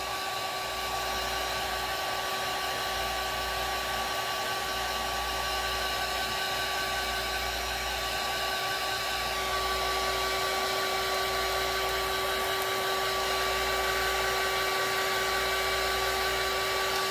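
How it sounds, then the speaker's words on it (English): A heat gun drying Dixie Belle paint on a decoupage witch's hat project gives a constant, loud, steady blowing whine with a fixed tone, running unbroken from start to end and heard on its own. "so Dixie Belle you can dry really easily with the heat guns"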